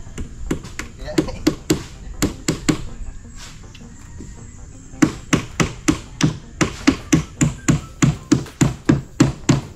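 A hammer strikes repeatedly in sharp, steady blows, first in a quick run of taps, then a pause with low voices, then a longer, louder series of even, rhythmic hits.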